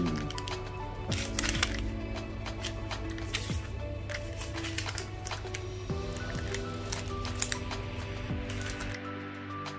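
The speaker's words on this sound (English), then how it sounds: "Already cut the top side, now we cut the bottom side, so it will be open both sides." A plastic coffee sachet is cut along its bottom edge with scissors: repeated crisp snips and crinkles close by, over a steady humming background with tonal noise.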